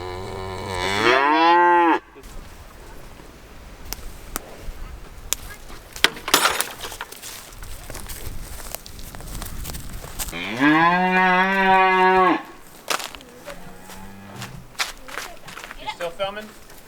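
A cow and a heifer calf on a farm moo in two long, loud calls, one at the very start and another later, with quieter rustling, thumps and movement in between.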